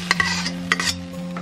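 Pork stir-fried with sugar and soy sauce in a wok: a few sharp spatula scrapes and clinks over a soft sizzle, with a steady hum underneath.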